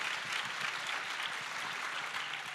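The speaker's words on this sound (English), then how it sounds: "Go ahead, you can clap for that." An audience applauds at a Q&A session, a steady, moderately loud wash of clapping held throughout with no voices over it.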